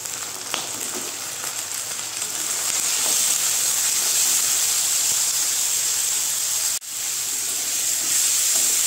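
Cut chicken pieces going into a hot pan with onion-garlic-ginger paste for chicken ghugni, giving a steady, close sizzling hiss that swells after a few seconds and briefly dips near the end.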